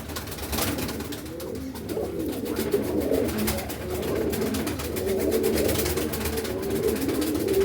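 Pigeons, a hen and a cock sold as a pair, coo in low throaty repeated phrases close by over a steady rustling background, continuous with no talk.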